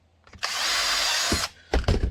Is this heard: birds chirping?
no